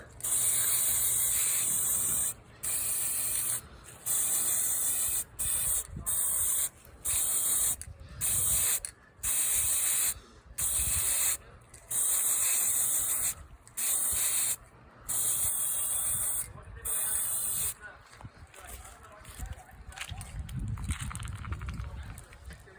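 An aerosol varnish sprayed onto plastic miniature figures in repeated short hissing bursts of about a second each, separated by brief pauses, close and loud, ending with quieter handling sounds.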